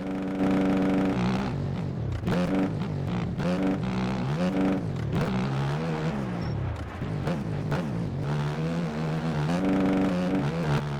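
A motocross bike engine in the video game MX Bikes revs hard and continuously during a ranked race, its loud buzzing tone rising and dropping with repeated gear shifts and throttle changes.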